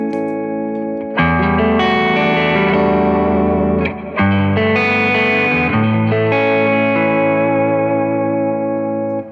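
Distorted electric guitar chords ring out loudly with a chorus shimmer, an overdrive with a boost pedal after it, sustaining and changing a few times before fading at the end.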